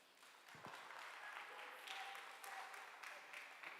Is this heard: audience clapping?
yes